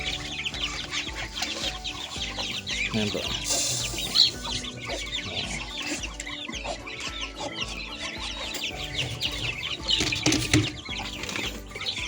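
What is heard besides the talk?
native chickens clucking in backyard farm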